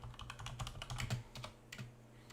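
Rapid keystrokes on a computer keyboard during Excel spreadsheet work, a quick uneven run of close, moderately soft clicks over a low steady hum.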